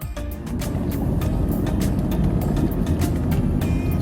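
A car driving to a film location, heard from inside as a steady loud road and engine rumble with continuous tire noise and scattered faint clicks.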